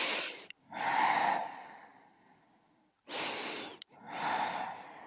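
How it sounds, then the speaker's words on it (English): Slow, deep breathing during a yoga stretch, with two long inhale and exhale cycles that are close and soft and separated by pauses. "Nice, slow, deep breaths."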